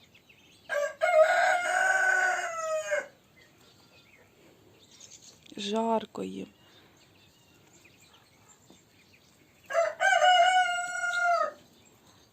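A rooster crows loudly twice with a shorter bird call between, near and clear against a quiet village background; a person speaks briefly in Ukrainian.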